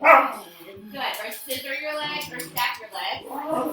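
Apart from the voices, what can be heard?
dog barking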